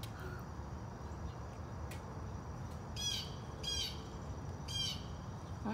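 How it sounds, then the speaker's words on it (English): A hawk calls three times at a distance, short harsh cries spaced about a second apart, standing out faintly above a steady outdoor background hum. "I hear a hawk."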